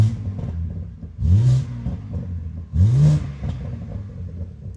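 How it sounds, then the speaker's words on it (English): BMW G80 M3 engine given two light revs with exhaust valves closed, each a short rising growl over a steady low idle, close and otherwise alone. "I'm gonna give you guys some light revs so you guys can hear it"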